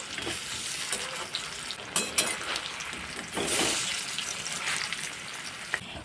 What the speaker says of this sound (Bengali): এক পিঠ ভাজা হয়ে গেছে এবার উল্টিয়ে দেবো